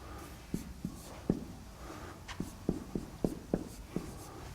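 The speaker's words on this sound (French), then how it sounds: "On va écrire ça comme ça." Someone writes on a board during a university logic lecture on axiomatic theories, producing faint, sharp taps and short strokes at an irregular rhythm, with no talking.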